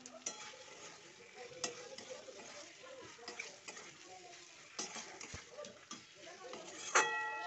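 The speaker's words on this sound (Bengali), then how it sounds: "কুমড়ো আলুটা দিয়ে দেবো।" Pumpkin and potato pieces go into a pan of sautéed tomato and spice masala for a vegetarian pumpkin curry, with soft sizzling and scraping stirs and occasional clinks of utensil against pan, fairly faint.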